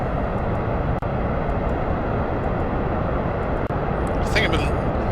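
A rocket engine in the Kerbal Space Program game throttles up into a loud, constant roar. The steady broadband rumble holds for the whole stretch and nearly drowns out a few faint clicks and a brief whoosh near the end.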